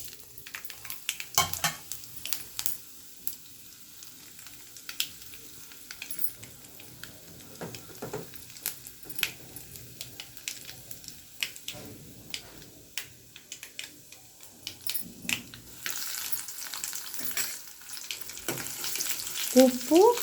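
Tempering spices for an okra fry, mustard seeds, cumin, chana dal, dried red chillies and garlic, sizzle and crackle in hot oil, a continuous frying hiss with occasional spoon stirs and utensil clinks, swelling louder near the end.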